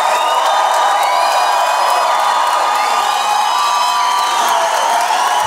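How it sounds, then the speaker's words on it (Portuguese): A loud crowd at a comedy show cheers, whoops and applauds, with high excited shouts over a sustained roar close to the listener. "Senhoras e senhores, uma salva de palmas para Di Lopes."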